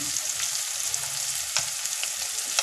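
Coconut, green chilli and cumin paste frying in a pan with a steady, close hiss and sizzle, broken by small spatters and occasional stirring scrapes.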